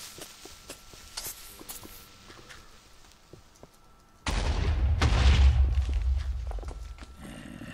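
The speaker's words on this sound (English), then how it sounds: "What the fuck just blew up?" A sudden loud blast in a Minecraft-style video game erupts midway, a deep booming rumble that lingers and decays, following quieter clicks and footsteps.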